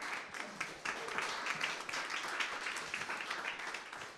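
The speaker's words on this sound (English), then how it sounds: "Okay, round of applause and we'll take a couple Q&A." A round of applause comes from the audience after a tech talk on a database built with ZK proofs, as a steady, moderately quiet wash of clapping that holds for several seconds.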